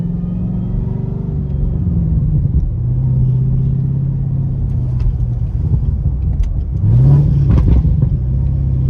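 A tuned C7 Corvette exhaust rumbles low and steady, with revs shifting through the middle and a sharp rev blip with crackling burble pops toward the end, close and loud with no voices.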